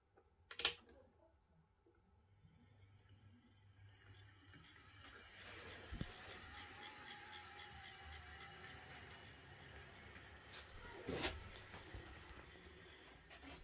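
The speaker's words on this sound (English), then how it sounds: "So let's see it running." A Dapol Manor Class model steam locomotive runs steadily, with a soft continuous mechanical whir and faint clicking of wheels, plus a couple of sharp knocks along the way.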